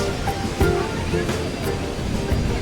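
Sea waves wash onto a beach near a temple at Ganpatipule, a steady broad rush of surf with soft swells, heard alone without talk.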